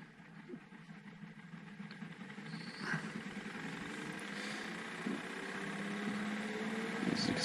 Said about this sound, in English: Hold the motor while I turn it on.